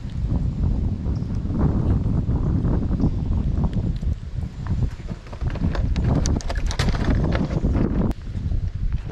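Strong wind buffets the microphone steadily and loudly at a bluegill fishing spot on the water, a continuous rushing roar with brief gusty dips.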